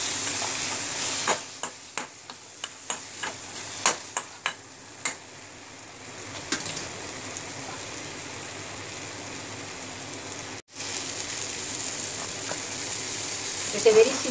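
Dry nathli (anchovy) curry fries in a pan: a soft steady sizzle runs throughout, with a series of sharp clicks and taps from stirring early on, fairly quiet and with no talk.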